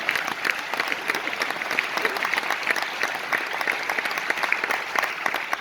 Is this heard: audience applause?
yes